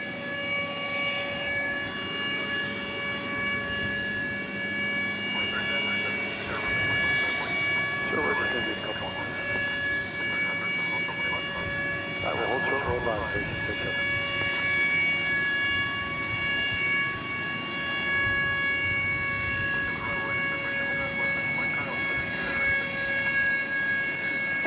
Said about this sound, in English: why does it sound like a tornado warning siren?